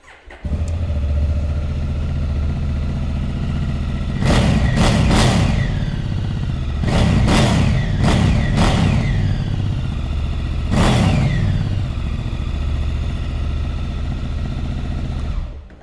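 A Honda CRF1000 Africa Twin motorcycle is started and left idling close by, its engine rising in several sharp revs, three or four bursts clustered in the middle and one more later, before settling back to a steady idle.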